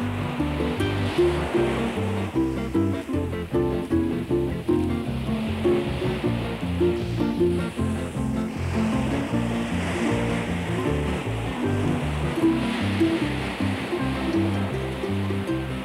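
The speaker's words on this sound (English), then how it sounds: "try the roaring surf on the north shore of Oahu" Roaring surf on the north shore of Oahu, Hawaii: a loud, continuous wash of breaking waves with deep low rumble and hissing spray, steady throughout with no voices.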